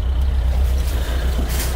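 A 1986 Suzuki Samurai engine idles at about 950 rpm, giving a steady, close, low rumble with a faint hiss above it.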